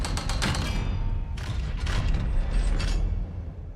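A magical door mechanism in Hogwarts Legacy grinds open, with clattering creaks, ratcheting clicks and heavy thuds coming in two close bursts, loud and near, without voices.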